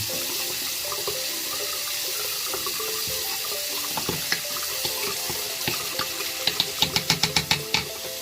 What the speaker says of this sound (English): Let's run some water and see how it does with the drain.